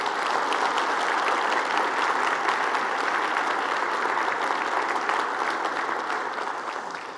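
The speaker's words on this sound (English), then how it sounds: "give them a round of applause for the work they do for our community" A State of the City audience applauds the Sioux Falls City Council with a steady wash of many hands clapping, even and sustained, fading slightly near the end, with no voices over it.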